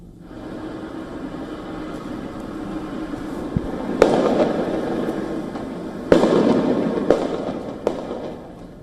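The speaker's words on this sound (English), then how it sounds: "sounds of flashbangs or firecrackers were heard exploding" Sharp bangs of firecrackers or flashbangs burst several times at a protest over a rumbling crowd-like background, a few loud cracks spaced irregularly.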